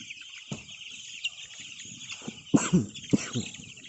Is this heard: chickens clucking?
yes